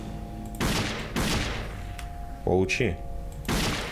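Several sharp bursts of gunfire from the shooter game Dead Effect ring out in quick succession, with a brief spoken exclamation between shots over a faint electronic hum.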